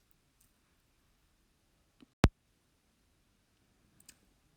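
A computer mouse gives one crisp, close click in a quiet room, with a couple of fainter ticks before and after.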